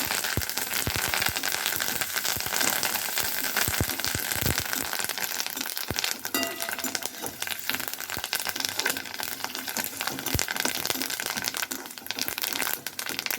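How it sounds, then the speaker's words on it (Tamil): Curry leaves fry in hot oil with mustard seeds and cumin, a loud, dense crackle and spatter with sharp pops, continuous throughout. "கருவேப்பிலை நல்லா பொரிஞ்சிடணும்."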